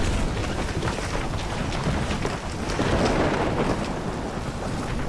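Storm wind roars and rain pours steadily in the video game Life is Strange on PS4, a loud, dense wash of gusting noise that swells midway and continues throughout.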